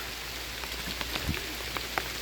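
Rain pours steadily onto a rice field where seedlings are being loaded, a dense close hiss broken by sharp individual drop taps.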